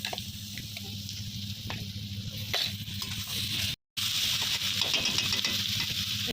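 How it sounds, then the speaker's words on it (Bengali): Ginger-garlic paste sizzling in hot oil in a pan for a chicken dish, a continuous crackling fry with stirring scrapes and a short gap partway through, steady and close. "এর মধ্যে দিয়ে দেবো আমি আদা রসুনের পেস্টটা দিয়ে দিচ্ছি।"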